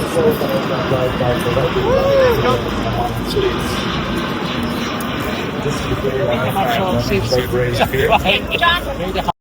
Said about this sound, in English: he's now trying to position the aircraft along parallel to the beach